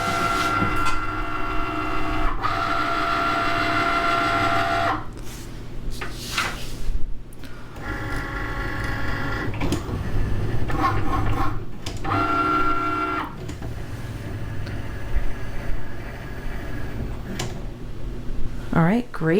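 A Cricut cutting machine scoring paper for a piano pop-up card, with motorized carriage whirs and mechanical shifts starting and stopping in bursts, close by, while a person talks over parts of it.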